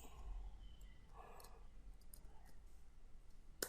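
Soft, close keystrokes on a computer keyboard, a scattering of light irregular clicks at low volume, ending with one sharper tap.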